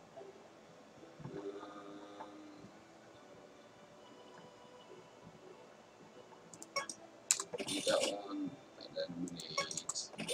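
Computer keyboard keys clatter in a brisk burst of close clicks near the end while someone talks, as a part search is typed into the PC game Car Mechanic Simulator 2015 during a Honda Civic build.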